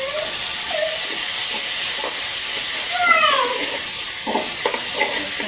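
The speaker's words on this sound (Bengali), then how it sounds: "এখন আমি এর ভিতরে রসুন দিতেছি" Garlic paste sizzles in hot oil with a loud, constant, bright hiss close to the pan, while a faint voice murmurs underneath.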